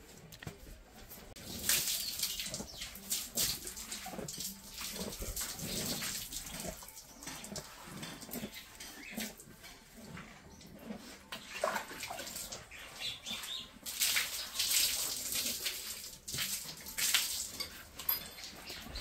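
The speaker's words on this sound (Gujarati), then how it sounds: "ગરમ પાણી નાખવાનું" Warm water poured over a cow during bathing on a village farm, splashing and gushing in uneven bursts that rise and fall across the clip, with faint birds in the background and no talk.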